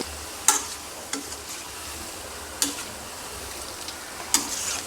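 Bhavnagari gathiya fry in oil in a kadai on a medium flame, a steady close sizzle broken by four sharp clinks of a spoon against the pan.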